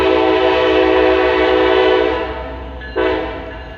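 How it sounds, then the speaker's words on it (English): A loud train passes close by in West Virginia, its horn blaring in long sustained tones that break off and then return in a second burst, with a steady rumble underneath and no talking. "Those are some loud trains."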